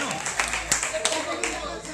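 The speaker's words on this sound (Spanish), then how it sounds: "Un fuerte aplauso para los actores." Audience applause for actors at an event, a short burst of clapping heard under a voice speaking.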